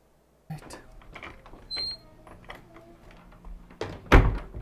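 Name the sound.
door closing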